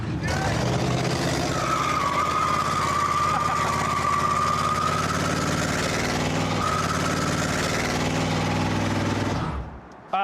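Dodge Hellcat engine revving hard, a loud sustained roar with a high whining tone that swells and holds for several seconds before cutting off.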